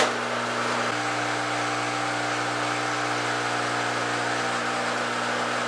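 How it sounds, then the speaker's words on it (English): A Samsung washing machine hums steadily with a low motor drone and faint whirring after a brief click near the start as it checks its door lock during an nF error diagnosis; no voices. "Machine going through the checking the door lock thingy"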